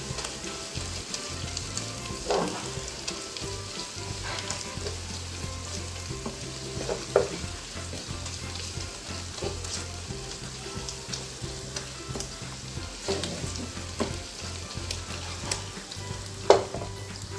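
Minced meat with red pepper flakes sizzles steadily in a pan for spinach with mince, a close, even frying hiss broken by scattered scrapes and clicks of stirring, with no talk over it.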